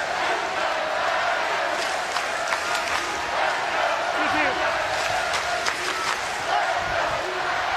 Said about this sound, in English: The LSU fans in the outfield, especially right, all standing and cheering.